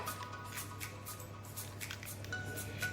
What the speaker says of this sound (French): je viens prendre un jaune d'œuf et je rajoute environ une cuillère de lait. Je mélange bien